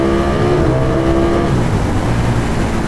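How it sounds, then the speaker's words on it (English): A Ducati Streetfighter V4S motorcycle engine runs with a loud exhaust, giving a continuous deep, throaty roar with a slight pitch shift partway through and no speech over it. "it is so noisy for standard bike."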